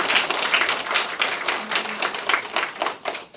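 Several people clap in a short burst of applause, sharp uneven claps close by, tapering off at the end.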